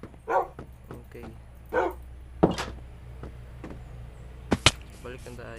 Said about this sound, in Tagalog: May aso pa sa baba.